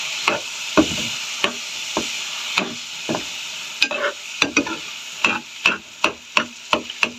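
Goat brain being mixed with spices in a pan over low heat, a spoon scraping and knocking against the pan in a quickening series of close taps over a soft sizzle.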